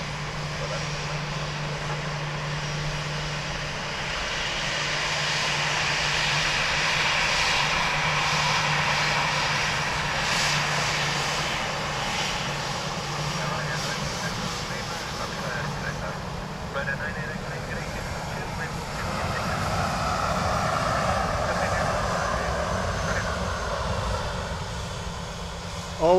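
An airplane lands at Dublin Airport in a broad engine roar that swells and then slowly fades over nearly half a minute, heard from a distance with a person talking over it.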